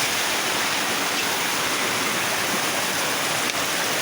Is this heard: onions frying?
no